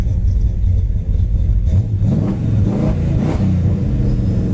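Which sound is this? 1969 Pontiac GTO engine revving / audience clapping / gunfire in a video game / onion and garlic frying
1969 Pontiac GTO engine revving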